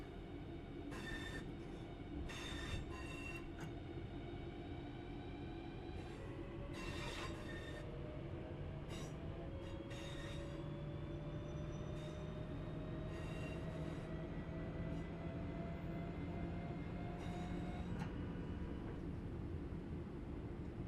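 A train in Train Sim World 3 on the Birmingham Cross City Redditch Branch runs steadily in notch 1, a continuous loud rumble of wheels and rail with drawn-out squeals and a rising whine over about twenty seconds.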